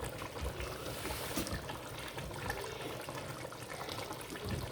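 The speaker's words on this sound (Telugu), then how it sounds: "కొద్దిగా వాటర్ వేయాలి" A little water poured into a simmering curry that already has lemon juice in it. It makes a steady, close splashing trickle that runs unbroken for several seconds with no talking.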